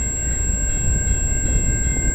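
A loud, steady rumble of a VIA Rail passenger train rolling nearby on the Dundas Subdivision in London, Ontario, a constant low roar with a high-pitched whine over it.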